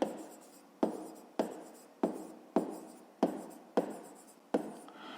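Pen strokes scratch across paper in a steady series of about seven short, crisp marks at a regular rhythm, heard up close and alone while a maths exercise on percentages is worked out by hand.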